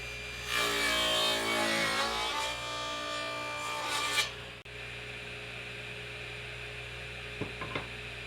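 Crosscut sled on a table saw slicing wood into shelf pieces: a loud, steady rasping cut lasting about four seconds, then a quieter running hum with a couple of light taps near the end.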